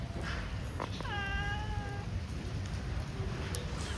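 A cat sheltering under something on a rainy street gives one clear, drawn-out meow over the steady hiss of rain and background noise, with a few fainter chirps around it.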